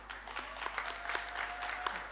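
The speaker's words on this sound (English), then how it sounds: "Applaud yourselves" Distant, faint applause fills a spring graduation ceremony hall as the choir is applauded, a steady wash of many hands clapping.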